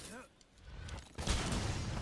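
Bomb explosions in the Monster Hunter World video game: after a quiet stretch with a faint voice, a sudden loud burst hits and rolls into a sustained, crackling rumble of blasts that fills the rest of the clip.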